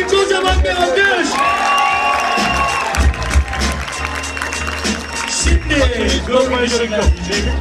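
A crowd at a freestyle rap battle final claps and cheers loudly, with whoops and shouts over a thumping music beat, all sustained and close.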